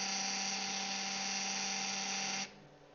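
A CNC spindle spinning on a RapidChange automatic tool changer without fully engaging the tool socket gives a steady high-pitched chattering whine for about two and a half seconds, then cuts off abruptly to quiet.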